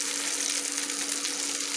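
Koi fish shallow-frying in oil for a spicy home-style tel koi, a steady broadband sizzle holding evenly throughout at moderate level with no voices.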